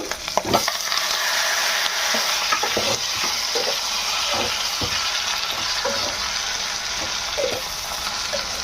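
Curry leaves and tomato pieces fry for tomato chutney in a pan, a steady loud sizzle with repeated stirring scrapes and clacks, close up and without voices.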